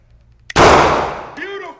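A single loud handgun shot rings out at a shooting range during a permit class, followed by a decaying echo, and a brief voice comes in at the end.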